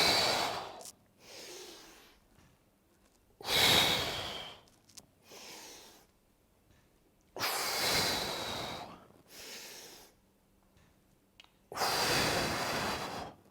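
Deep, audible breaths drawn in and pushed out during a yoga exercise from the Five Tibetan Rites, a slow rhythm of long airy inhales and exhales with quiet pauses between, close and fairly soft.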